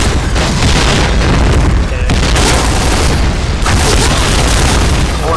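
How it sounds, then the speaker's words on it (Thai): Loud, booming grenade blasts from the video game Point Blank during an esports match, heavy rumbling bursts that drop out briefly and return, over a continuous dense wash of noise. "เฮ้ยระเบิด"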